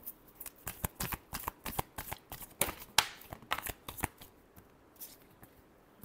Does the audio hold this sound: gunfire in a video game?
no